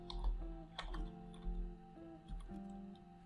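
Typing a font name on a computer keyboard, a few soft quick key taps spread across a few seconds, close and quiet over a low hum.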